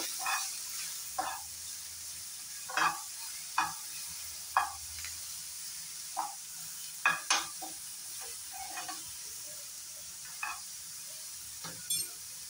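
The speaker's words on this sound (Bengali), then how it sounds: "সবগুলো জিনিস ভালো করে ফ্রাই করে নেব।" Spices with cumin powder frying in a pan for a zero-oil chicken dish, heard as sporadic spatula scrapes and clacks over a faint sizzle, with quiet gaps between strokes.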